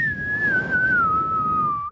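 A person whistles one loud, sustained note for about two seconds, the pitch sliding slowly downward before it cuts off abruptly, with a steady low rumble of room noise underneath.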